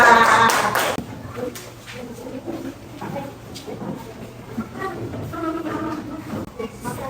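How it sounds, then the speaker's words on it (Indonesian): Classroom applause for a classmate, a short burst of clapping at the start that quickly fades into quieter room sounds and murmuring voices. "beri aplaus untuk teman kita"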